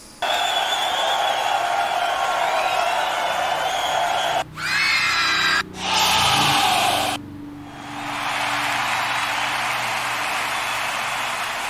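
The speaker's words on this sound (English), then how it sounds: "Or just a crowd roar too is good." Festival crowd roar sample auditioned in Ableton, a dense continuous wall of cheering and screaming voices with a few abrupt cuts between takes, loud and full.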